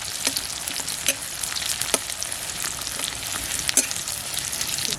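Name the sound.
spice paste frying in oil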